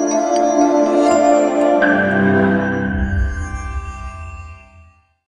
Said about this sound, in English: the noise you can hear in the background are the bells from the church